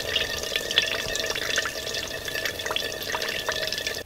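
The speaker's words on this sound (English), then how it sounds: "water comes through the weave of the canvas and then drips off the bottom of the bag" Water seeps through the weave of a canvas bag used as a pre-filter and drips off the bottom, a steady patter of small close drips with a faint trickle behind it.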